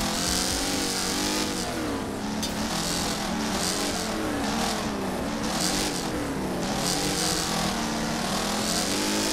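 A race car engine in Wreckfest roars at full throttle through a corner, loud and continuous with rising and falling revs as other cars close in and overtake.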